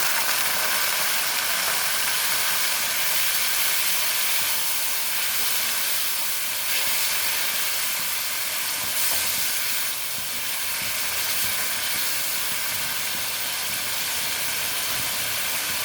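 Water hits hot frying masala for a fish curry in a kitchen pan, producing a loud, continuous hissing sizzle that holds steady, easing slightly for a moment before swelling again.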